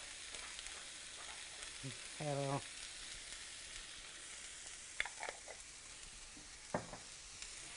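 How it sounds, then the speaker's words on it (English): Minced garlic and broccoli sauté in a hot pan for a beef stir fry, giving a steady, moderately loud sizzle with a few clinks and stirring scrapes, and one brief spoken greeting. "Now you just saute, just let that cook a minute"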